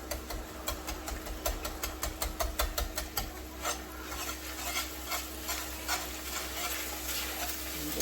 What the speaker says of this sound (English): you can use a whisk to kind of help break it up and melt a little bit faster